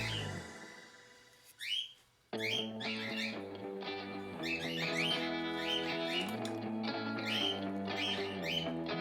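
Pet birds chirp and whistle indoors with bright, repeated tweets over a steady tonal hum in the room, the calls coming in bursts that grow busier toward the end.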